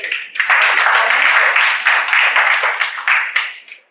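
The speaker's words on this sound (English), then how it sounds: "Clap for them." Loud, close applause from a seminar audience, many hands clapping in a dense burst that swells and pulses before fading out at the end.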